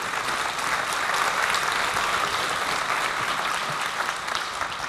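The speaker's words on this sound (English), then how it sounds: "Big round of applause," Steady, dense applause from a large conference audience welcoming a presenter to a UX recruitment talk, sustained at an even, fairly loud level for about five seconds with no speech over it.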